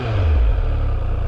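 A 2021 Triumph Speed Triple 1200 RS motorcycle idles up close with a loud, steady low rumble and no talk.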